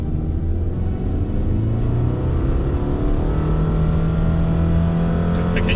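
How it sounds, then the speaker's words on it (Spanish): A Subaru Forester 2.5 EyeSight pulls away at full throttle in Sport mode, its engine heard from inside the cabin as a loud, steady droning roar that climbs smoothly in pitch, with no talk over it. "para eso verifico que esté en la S, que es digamos el modo Sport. Pongo Drive y vamos a fondo."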